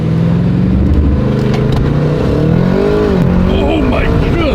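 An Audi RS7 tuned to Unitronic Stage 3+ launches hard under launch control, its engine roaring loud and close as revs climb and shift through rising and falling pitch sweeps, with occupants talking over the noise.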